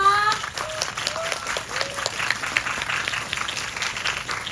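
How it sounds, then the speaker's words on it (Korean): A concert audience applauds after a musical stage greeting and encore, steady dense clapping throughout, with a few brief sung or called-out tones near the start. "박수 한번 주세요."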